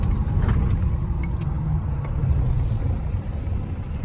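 Trucks and cars stuck in a heavy traffic jam on a road, with a steady loud low engine rumble and a few faint clinks and hisses over it.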